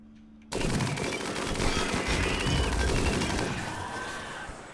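Colonists in RimWorld open fire together, a sudden start into a sustained, dense crackle of overlapping shots that stays loud throughout and eases slightly toward the end, with no talking.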